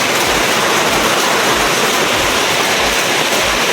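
Steady rain pouring outdoors on a potato field, a dense, continuous hiss with low rumbling underneath, close and fairly loud throughout with no voices.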